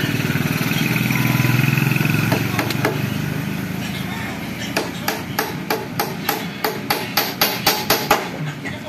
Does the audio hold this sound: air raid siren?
no